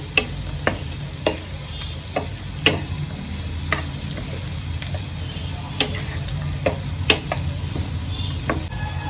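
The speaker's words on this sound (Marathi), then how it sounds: "आता कांदा चांगला परतून घेते मी" Onion with curry leaves is sautéed on a low gas flame for sevai upma. The sizzle is continuous and close, punctuated by regular spatula scrapes and taps against the pan.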